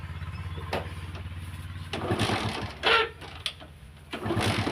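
A Hero Passion Pro motorbike with an electrical current fault is kick-started and runs, a steady low idle with several louder rev bursts and knocks, close by.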